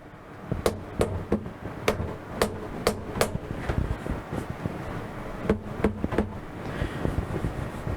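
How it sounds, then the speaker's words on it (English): Soft-faced plastic, rubber or leather hammer tapping aluminum stock down into a mini CNC milling vise, a string of light, sharp taps in irregular clusters, close and clear with no talk. "you use a plastic or a rubber or leather hammer to do that"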